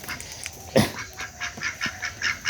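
Native Bangladeshi ducks call nearby in a string of short, nasal honking quacks, one loud call followed by several quieter ones, with no voices.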